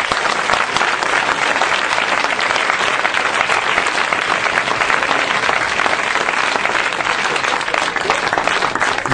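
A church congregation applauds loudly and continuously, a dense close wash of clapping that holds steady throughout with no break.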